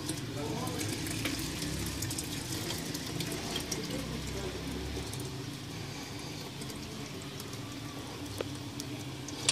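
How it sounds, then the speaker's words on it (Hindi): Cold water poured into falsa juice with black salt in a kitchen, a steady running, splashing wash of liquid heard close and continuous throughout. "बाकी का सारा ठंडा जो पानी है वो भी मैं इसके अंदर डाल रहा हूँ।"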